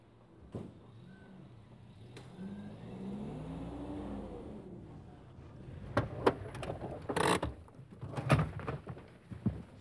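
A car pulls away, its engine rising in pitch as it accelerates and fades, followed by nearby clatter and knocks; birds call faintly in the background.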